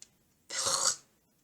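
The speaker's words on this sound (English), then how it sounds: "Because that cough is gnarly." A single short, harsh cough burst, close and fairly loud, lasting about half a second, then quiet.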